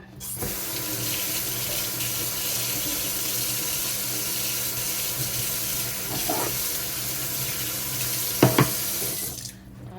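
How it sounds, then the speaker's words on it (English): Tap water runs steadily into a sink while a clogged strainer is rinsed beneath it, a continuous broad hiss with a few brief clinks and splashes near the end. "did get a little clogged, so I'm just going to rinse it real quick"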